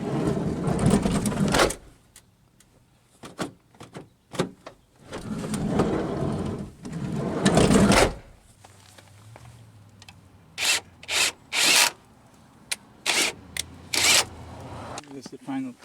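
A minivan sliding door on a repaired, rust-patched lower track rolls shut and open with rough scraping slides and clunks, followed by several short knocks, with a person talking.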